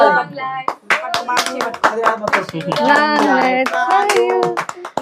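Hand clapping and finger snapping at a birthday cake cutting, a steady run of sharp claps mixed with voices singing and talking throughout.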